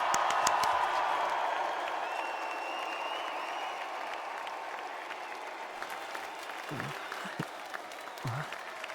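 Sustained applause from a large crowd in the video game Metaphor: ReFantazio, a dense wash of clapping that slowly fades, with a few scattered claps and a voice toward the end.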